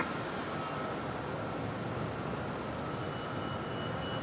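A steady broadband roar of an airliner on the runway at Raleigh-Durham airport, engines spooling for takeoff, heard from a distance as a constant rumbling hiss without talking.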